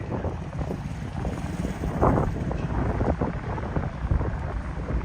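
Wind buffeting the microphone outdoors on a morning walk in Tokyo, a constant low rumbling roar with gusts swelling and fading, no voices.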